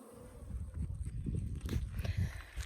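Africanized hybrid honey bees at an open hive in Southern Arizona, a low, dense buzzing hum that stays steady and close throughout.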